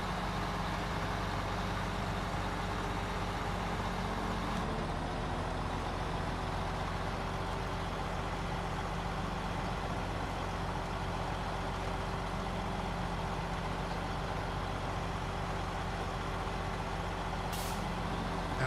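A truck engine drones steadily in a driving video game, loud and continuous, with a hiss of air brakes and a slight change in engine tone partway through.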